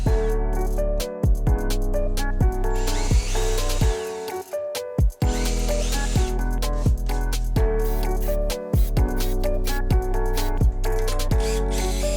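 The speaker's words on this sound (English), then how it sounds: "I'm going to pre-drill a couple of holes" A power drill pre-drills holes in wood for a DIY LED floating shelf. The loud, close motor whine rises and falls in repeated bursts as the bit bites in, with short gaps between holes.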